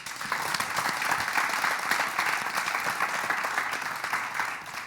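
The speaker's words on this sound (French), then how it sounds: "Applaudissez pour Dieu, c'est important." Audience applauding in a house setting at a French-language television entertainment show, a steady dense wash of many hands clapping together at moderate loudness with no voices on top.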